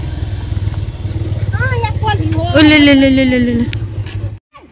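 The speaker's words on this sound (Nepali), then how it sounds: "हामी चाहिँ बाइक राख्न जाँदैछौँ" A motorcycle engine idles with a steady low rumble in Nepal, then revs up with a rising whine before cutting off abruptly; voices talk over it.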